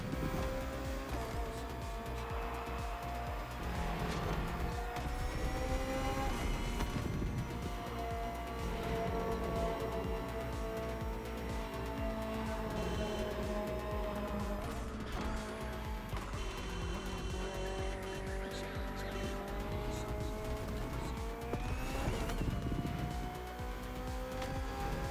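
BMW M Hybrid V8, a 2023 endurance race car built for events like the 24 Hours of Le Mans, driven in The Crew Motorfest in Hawaii: a loud, continuous engine roar with shifting revs and brief tire squeal, no talk.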